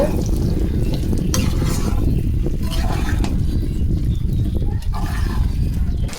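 Winter vegetables frying in a pan while a spiced onion tempering is stirred through them, giving a steady, dense sizzle with scraping spoon strokes close by across the whole stretch.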